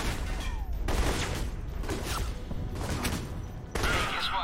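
Gunfire in the video game Alpha Protocol, a few loud sharp bursts of shots and thuds over a dense, busy game soundtrack, with no talk over it.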